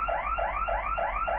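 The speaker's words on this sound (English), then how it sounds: "the alarm's going off" An alarm goes off, a loud warbling electronic tone that rises and falls in a steady cycle about every third of a second, repeating without pause and heard alone.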